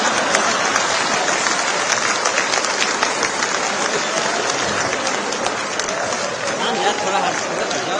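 Audience at a Hindi humorous poetry recital claps in sustained, dense applause, a steady crackle of many hands close by that carries on without a break, with a few voices mixed in.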